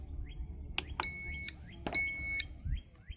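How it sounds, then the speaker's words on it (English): A drone controller for the HYTOBP P17 drone gives two short electronic beeps a second apart, each a bright clean tone with a click at its onset. They sound close and clear over faint handling noise. "so we got a beep."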